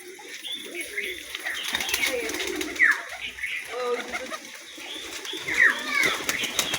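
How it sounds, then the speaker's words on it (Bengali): Domestic pigeons in a loft, cooing and calling off and on over a low, steady background. Wings flap now and then. "তাই জন্যে এই পায়রাটা ভোল মারে"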